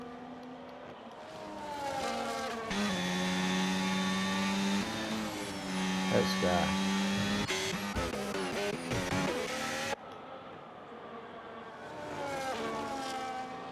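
Racing car engine at high RPM in a video game at the Hungary circuit, a loud sustained whine with rising and falling pitch as gears shift, plus a brief spoken word over it.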